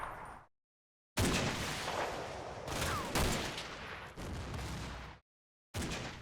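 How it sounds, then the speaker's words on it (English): Machine gun bursts and rattling gunfire sound in the Combat Mission: Battle for Normandy war game, several loud, dense volleys broken by brief silences, with no voices. "That machine gun fire, where's that come from?"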